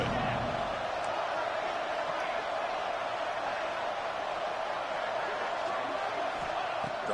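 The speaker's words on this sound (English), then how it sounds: "3rd down and the crowd really getting into it" A stadium crowd roars in a college football video game on third down, a steady, dense wall of broadband cheering that holds at an even level throughout.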